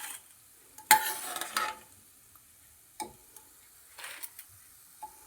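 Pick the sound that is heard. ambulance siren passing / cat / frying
frying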